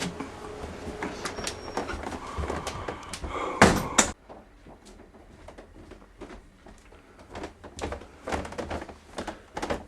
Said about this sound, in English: Let me just shut the door behind you.